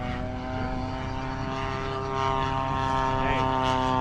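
An RC Seagull Models P-47 Razorback powered by a GT80 engine flies past with a steady, smooth droning buzz rich in harmonic whine, continuous throughout and swelling slightly louder toward the end.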